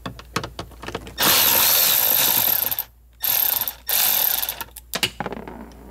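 A T25 Torx bolt is undone on the blower motor cover of a 2015 Mercedes/Dodge Sprinter 3.0L, with close, loud bursts of ratcheting and rotating mechanical noise interrupted by brief pauses and a few sharp clicks.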